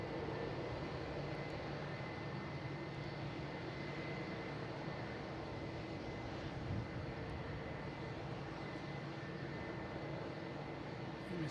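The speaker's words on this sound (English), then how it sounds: "before I was rudely interrupted by a plane taking off." An airplane takes off at Boston Logan International Airport, a steady, broad roar of jet engines that holds at a constant level throughout, distant yet filling the scene, with no voices.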